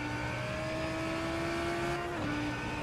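A Lamborghini Huracan GT3 race car in a racing video game drones at a steady high pitch, holding a sustained engine note before shifting down, loud and continuous with no talk.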